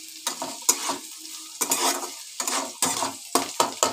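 Chopped carrot, onion and green chili fry in a pan for soybean chowmein while a spatula stirs them. Repeated sharp scrapes and clacks against the pan land in irregular bursts over a hissing sizzle, close and fairly loud, with no voices.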